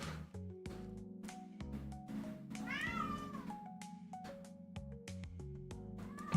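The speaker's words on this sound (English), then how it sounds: "I hope you enjoy the cat yells." A cat yells and meows repeatedly, with drawn-out yowls rising and falling over a faint, steady tonal background.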